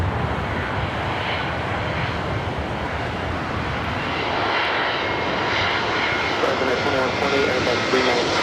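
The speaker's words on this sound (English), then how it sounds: "up next A380 Super, flight 452" An Airbus A380 on a flight from Munich at LAX produces a steady, loud jet engine roar with a broad rushing wash that holds throughout, while a voice talks faintly near the end.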